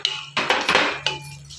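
A utensil stirring turmeric into chicken curry in a pot, making a few clinking, scraping knocks against the metal in quick irregular bursts, close and fairly loud.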